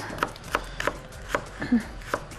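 Steady knife chops on a wooden cutting board while making potato salad, about six sharp taps spaced unevenly, close and fairly quiet with faint room noise behind.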